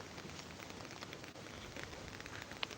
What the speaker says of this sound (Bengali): বৃষ্টির দৃশ্য আসলেই অসাধারণ লাগে